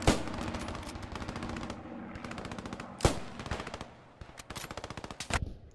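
Rapid automatic gunfire rattles continuously from a 50-versus-50 Post Scriptum battle defending Utah Beach, with dense bursts overlapping and several louder, nearer shots punching out above the steady distant firing.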